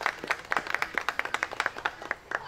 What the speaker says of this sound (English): Let's give these two a round of applause for coming out and doing this.